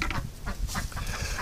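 A duck quacks in a rapid, raspy series close by on a property where ducks and geese are raised, loud and continuous with no talk.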